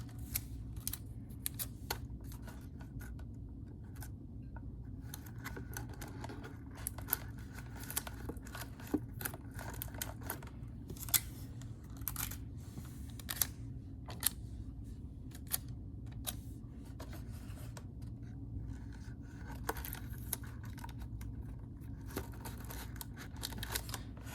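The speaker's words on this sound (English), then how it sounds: "I'm going to tape the 4 pieces inside." Tape being pulled and pressed down while pieces are fastened inside a homemade ring toss game: scattered crinkly tearing and crackling clicks over a steady low hum, fairly quiet and close, no talking.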